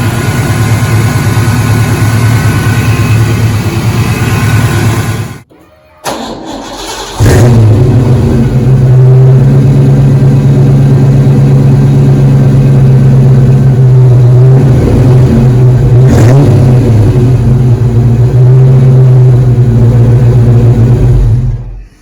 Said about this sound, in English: I started the car up, turned it off, was able to start it again.